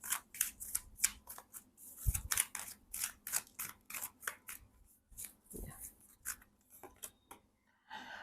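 Repeated crisp riffling and slapping of tarot cards, a quick burst of shuffles with brief pauses, close and fairly quiet, no talking.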